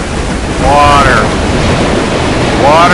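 Ocean water and surging waves in the video game Call of Cthulhu: Dark Corners of the Earth, a loud, continuous wash of surf with gusting roar and a couple of rising whistling tones over it.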